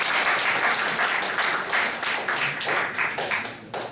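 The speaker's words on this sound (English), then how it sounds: "please help me welcome today's speaker with a big round of applause." An audience at a talk on the French presence in South Korea applauds to welcome the French consul as speaker, steady dense clapping from many hands filling the room for several seconds, close and fairly loud.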